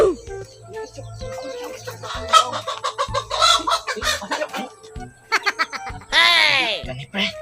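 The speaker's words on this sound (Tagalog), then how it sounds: "Manok oh." A chicken clucks in short, close, loud bursts while people talk over it, with a sharper, higher squawk near the end.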